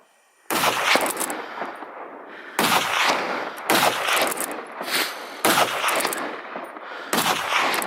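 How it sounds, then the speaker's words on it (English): Rapid gunshots from hunters firing at wild boars on an open hillside ring out in five loud bursts with echoing tails, spaced about a second apart. "Two boars from the herd were brought down after a series of rapid shots."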